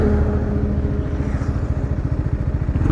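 A 2024 TVS Apache RR 310 BS6 motorcycle pulls hard during a top speed run, its engine a loud, close, rapid pulsing drone that holds steady throughout with no voices.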